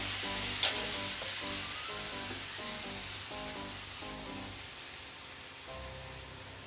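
Onion stems and cut lime hit hot oil in a frying pan, a steady soft sizzle and crackle with a brief sharp pop early on, fading a little toward the end, with no talking.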